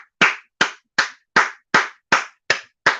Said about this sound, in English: You gotta clap for these dumbass niggas,